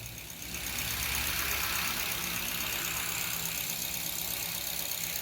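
A used car's engine idles steadily in neutral with the automatic transmission, a continuous even rumble and hiss heard up close with no talking.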